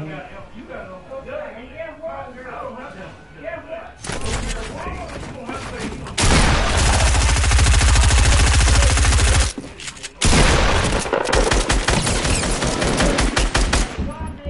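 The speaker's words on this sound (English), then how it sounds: "I keep tagging you on my hunting rifle" Rapid bursts of gunfire in Fortnite battle royale, loud and dense, with sustained volleys from about four seconds on and a brief gap near ten seconds, over steady game noise.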